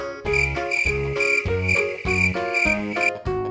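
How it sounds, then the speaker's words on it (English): A cricket chirps in steady, regular pulses of a sharp, high trill, loud and close, with no voices, repeating evenly several times over a few seconds. "Cricket."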